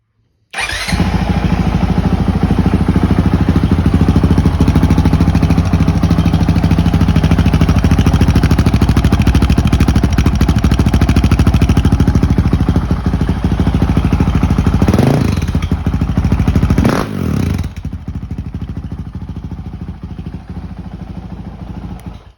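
A 2021 Honda CRF450RL dirt bike with a Yoshimura RS4 titanium exhaust starts abruptly and runs loud and raspy up close, revving twice near the end before settling to a quieter idle.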